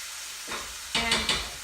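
Onions being stirred in a small amount of oil in a pan, a faint scrape followed by three short bursts of sizzle and spatula movement, close and fairly quiet with no talk.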